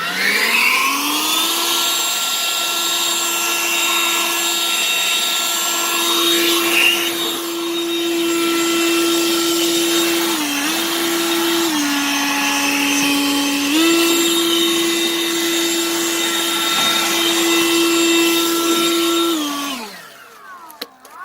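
A Harbor Freight Lynxx 40-volt cordless leaf blower runs with a loud, steady electric whine, spinning up at the start, dipping briefly twice as the speed shifts, then winding down near the end.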